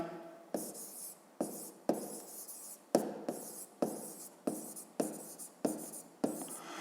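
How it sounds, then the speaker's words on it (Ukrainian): Pen writing a solution on paper, a steady rhythm of short scratchy strokes with distinct starts, close and quiet with no talk. "Пишемо розв'язання."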